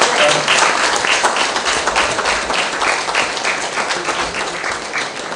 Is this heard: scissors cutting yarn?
no